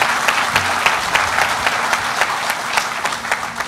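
A crowd at the Choctaw Nation campus headquarters grand opening gives a round of applause: close, steady, dense clapping throughout.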